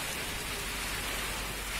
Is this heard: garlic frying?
no